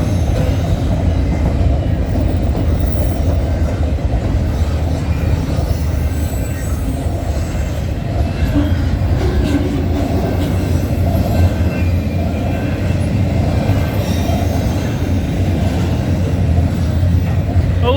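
A freight train with a mid-train DPU locomotive rolls past at night, a steady heavy rumble of railcars with intermittent wheel squeal and clatter, continuous and close.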